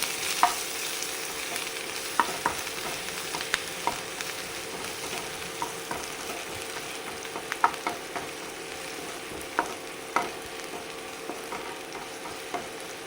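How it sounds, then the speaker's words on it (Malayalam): Green chillies, onion and curry leaves sauté in a pan with a steady, moderate sizzle, punctuated by scattered spatula scrapes and taps throughout; no one speaks. "അതിലേക്ക് നമ്മൾ അരിഞ്ഞു വെച്ചിരിക്കുന്ന പച്ചമുളക് സവാള കറിവേപ്പിലൊക്കെ ഇട്ട് കൊടുക്കും ഇതൊക്കെ നമുക്ക് വഴറ്റി കൊടുക്കാം"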